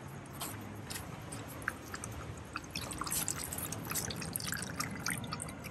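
Stray dogs lapping and gulping water from a cup, quiet wet slurping and dripping sounds close by, irregular and continuous, with no talk.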